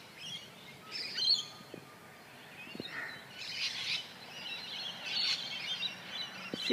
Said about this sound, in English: This particular tree is loaded with parrots